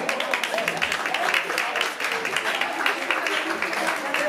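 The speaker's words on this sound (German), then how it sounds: "Gebt euch mal einen Applaus selber." Crowd at a music venue clapping for themselves, a dense, continuous wash of many hands with some voices mixed in, steady and fairly loud throughout.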